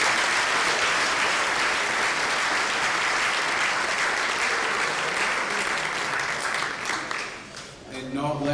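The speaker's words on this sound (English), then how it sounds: "So please give him a round of applause." A crowd at a high school sports awards night applauds steadily, dense clapping filling the room for several seconds before thinning out at the end as a voice returns.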